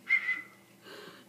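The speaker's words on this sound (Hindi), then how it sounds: "सीटी बजाओ।" Two short, shrill blasts on a whistle start the moment close by, followed by a softer breathy puff. No one talks.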